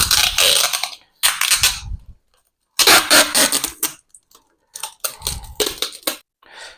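Adhesive tape is pulled and wound around a rubber glove stretched over a bottle of fermenting raspberry wine, giving several loud, rasping bursts separated by short pauses, close up with no talking.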